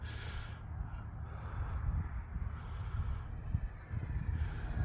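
An E-flite Ultra Stick RC airplane flies on a windy day. A faint, distant high-pitched motor whine rises slowly above a steady low rumble of wind buffeting.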